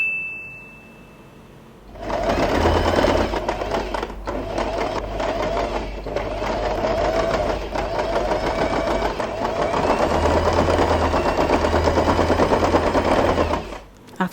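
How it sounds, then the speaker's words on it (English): A sewing machine stitches elastic band and scrunchie fabric in one loud, continuous rapid run lasting about twelve seconds, its steady mechanical clatter close and alone after a brief quiet start. "we are going to sew this part"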